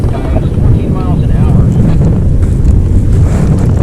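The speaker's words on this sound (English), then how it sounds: "Yep, the wind's really picking up." Strong wind buffeting a small fishing boat at sea, a loud, constant low roar of gusts across the microphone with faint water slapping beneath.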